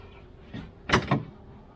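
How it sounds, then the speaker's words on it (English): The doors of a Honda Pioneer 700-4 side-by-side are opened in a garage, giving a couple of close latch clunks and thumps in quick succession against a faint background. "open the doors up and make it easier to get to"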